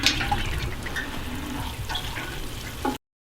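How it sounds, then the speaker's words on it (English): Water is poured onto young potted fig trees grown from cuttings in a home garden, giving about three seconds of steady, close splashing and trickling before it cuts off. "Luke, do you mind giving these figs some water?"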